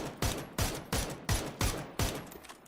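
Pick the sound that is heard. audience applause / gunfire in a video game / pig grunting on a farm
gunfire in a video game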